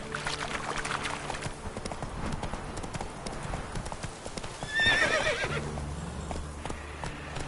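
Horse hooves clip-clop in a steady trot with a clear neigh partway through, set in The Witcher 3 video game, loud and close over a background game ambience.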